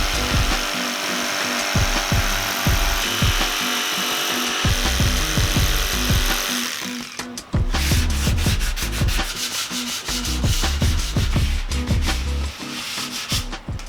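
Plywood being cut into a seat shape with simple hand tools, close and loud, with steady continuous rasping strokes that turn into rapid rhythmic back-and-forth sawing strokes, no talk.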